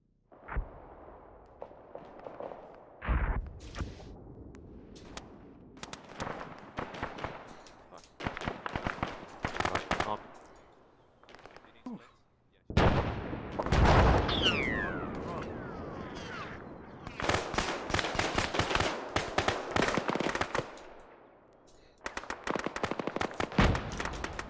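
Mortar blasts and crackling small-arms gunfire in the military video game Arma 3, with irregular loud bursts and sustained rattling volleys, near and distant, under intermittent voices on radio chatter.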